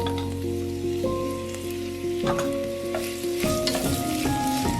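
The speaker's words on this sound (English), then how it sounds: "Reduce the heat to medium, then add the sliced onions to the same pot." Sliced onions sauté over medium heat in a pot that held browned beef, giving a steady sizzle with scraping and stirring knocks and a faint tonal hum underneath.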